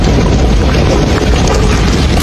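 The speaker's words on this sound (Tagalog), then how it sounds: "Isang malakas na pagsabog na naman ang naganap." A loud, sustained explosion blast from an animated fight, a dense roaring rumble that holds at full force for a couple of seconds without letting up.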